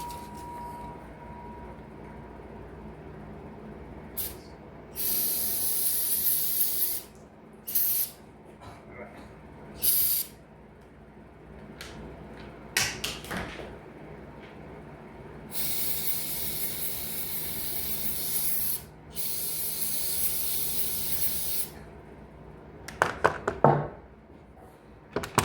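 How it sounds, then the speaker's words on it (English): Brake cleaner sprays in several hissing bursts of a few seconds each into the air filter housing of a Stihl SRM225 trimmer, close and loud, separated by pauses with quiet handling noises. "first we're gonna clean this out with some brake clean"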